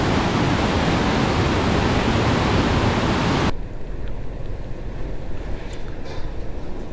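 Fast-flowing mountain river along the Gilgit–Skardu road in Pakistan, a loud continuous roar of rushing water over large boulders, dropping to a softer, duller rush about halfway through.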